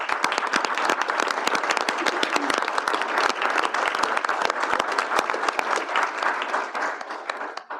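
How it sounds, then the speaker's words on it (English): Sustained, loud applause from the audience at a University of Nebraska Board of Regents meeting, congratulating two regents; dense clapping fills the room steadily and tapers slightly at the end. "ask everybody to give them a round of applause"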